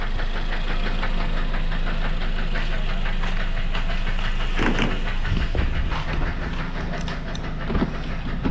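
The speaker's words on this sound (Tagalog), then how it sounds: "Ayun yung tumutunog. Pumapalo yung axle niya." Repetitive metallic knocking from a faulty right-side axle on a Toyota Vios beats steadily over a loud, continuous engine rumble, the clatter persisting throughout without any speech.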